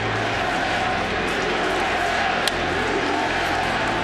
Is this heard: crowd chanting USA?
yes